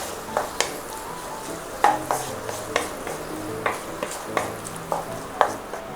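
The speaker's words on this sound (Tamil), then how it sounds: "சின்னதாக சாப் பண்ண தக்காளி போட்டுட்டு ஒரே ஒரு வாட்டி நல்லா மிக்ஸ் பண்ணி விட்ருங்க" Small chopped tomatoes stirred into a mutton biryani masala in a pan, a soft background sizzle with a regular series of sharp spoon knocks and scrapes against the pan, near and with no talk.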